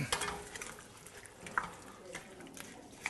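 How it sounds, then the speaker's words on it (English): Potatoes are stirred in a stew pot, faint scraping and sloshing with a few light clinks of utensil against metal, quiet and close, with a voice briefly present. "Put them in there. Wow, all the potatoes in the pool. Here we go. Stirring them up."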